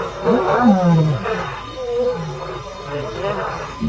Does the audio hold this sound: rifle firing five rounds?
no